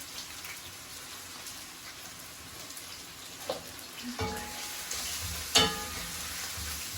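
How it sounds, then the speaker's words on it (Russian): Soft, continuous sizzling of onion and carrot frying in a pan, with a few clinks and scrapes of a utensil stirring near the end. "Пока жарится зажарка"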